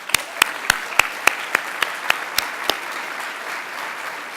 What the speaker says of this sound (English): Please give all of our program partners a round of applause.